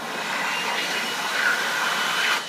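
An Excel Xlerator electric hand dryer with a 1.1 noise reduction nozzle blasts at full speed, a loud steady rushing roar with a faint rising whine, close by.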